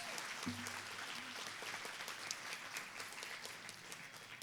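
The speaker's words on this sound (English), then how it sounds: "Please give them one more round of applause, please." An audience applauds after a stage debut performance, with steady, sustained clapping from a crowd heard at a moderate distance, and no pause in the clapping across the whole stretch.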